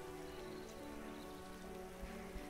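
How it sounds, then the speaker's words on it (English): Steady rain falls on surfaces in the video game Starbound, a constant even patter with a faint low hum beneath and no voices. "Alright, so we have some rain now."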